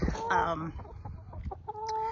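Backyard garden chickens cluck nearby in a short burst of several calls, close and fairly clear over light background noise.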